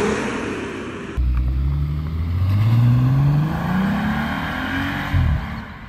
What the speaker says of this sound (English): That's a powerful engine